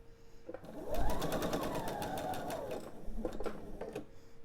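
A sewing machine runs steadily for about three seconds while two pieces of quilt fabric are pieced together for a Rock Candy table topper, starting and stopping cleanly with faint handling noise around it.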